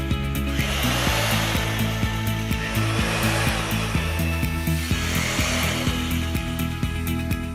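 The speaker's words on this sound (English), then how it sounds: "Use a small drill bit and make a line of 5 to 7 holes on your joist" A power drill with a small bit boring a line of holes into a wooden ceiling joist in a garage: a steady whining motor with grinding bursts as the bit bites into the wood, loud and close, no speech.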